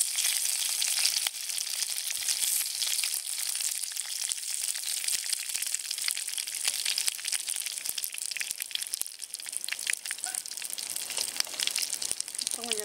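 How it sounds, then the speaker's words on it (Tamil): Citron leaves fry in hot oil in a pan, making a constant bright sizzle and crackle up close, with occasional soft stirring knocks. "இலைய நல்லா சுத்தம் பண்ணி வச்சிருக்க இலைய இந்த எண்ணெயில போட்டுக்கலாம்."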